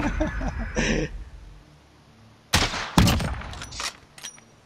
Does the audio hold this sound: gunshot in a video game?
yes